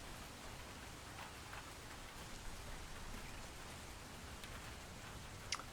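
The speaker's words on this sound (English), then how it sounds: "It's raining in this snowy place." Steady rain ambience, a soft continuous patter of drops on surfaces with no voices, faint and even throughout with one brief sharper tap near the end.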